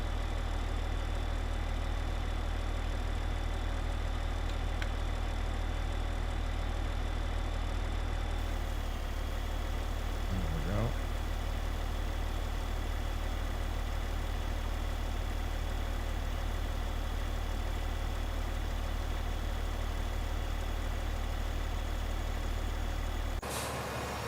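A tractor engine in a farming video game runs at a steady idle-like drone for the whole stretch, low and continuous, with a brief rising whine partway through and no talk.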